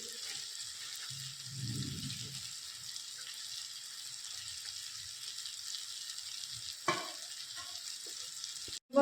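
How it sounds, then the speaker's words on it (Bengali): Ground spices and ginger-garlic paste frying in a pan give a faint, steady sizzle, with a soft scrape partway through and a sharp clatter at the very end. "এগুলোকে আমি এবার ভালো করে ভেজে নেব।"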